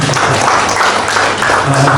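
Audience applause at a 2025 tourism outlook forum for Tanjung Lesung, loud and continuous, with a voice talking underneath.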